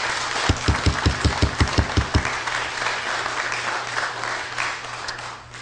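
At a county board meeting, a run of about eight sharp, evenly spaced claps rises over a steady background hum, followed by softer, scattered clapping that fades into the room noise.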